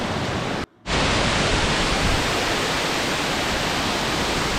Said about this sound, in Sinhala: ඒ මෝහිනී ඇල්ල.